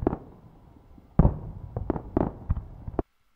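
Fireworks effect layered into a lo-fi song: a quiet crackling lead-in, then a burst of sharp pops and bangs in quick irregular succession, ending abruptly with a final crack.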